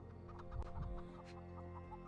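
Several chickens cluck softly and steadily in a Sherlock Holmes video game scene, faint and close over a low background hum.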